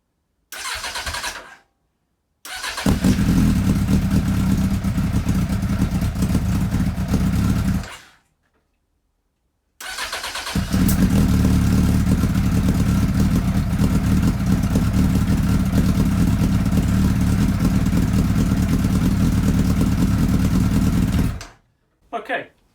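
Suzuki Bandit motorcycle engine with the clutch lever bypassed and unprimed carbs, starting and running in two loud bursts separated by silence, idling and revving up close, with someone talking over it.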